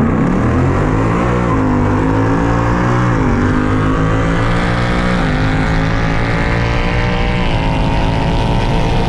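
A Mustang Dark Horse accelerating hard from a dig in a drag race, a loud, close engine roar climbing through several gear shifts, each marked by a brief dip before the pitch rises again, with no talk.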